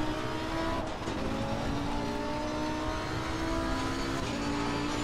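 Race car engine roaring steadily in the Assetto Corsa Competizione racing game on PS4, a loud continuous high-revving drone with small pitch shifts as gears change, no talking over it.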